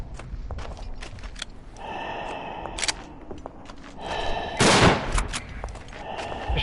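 Rifle and machine-gun fire in the World War I shooter Verdun comes as scattered sharp shots and a louder burst near the end, over a busy battlefield backdrop.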